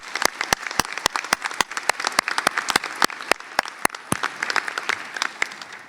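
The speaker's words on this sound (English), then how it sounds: "Can we give them a round of applause for their support?" An auditorium audience at a medical school white coat ceremony claps for supporting alumni, with steady applause and sharp individual claps standing out near the microphone throughout.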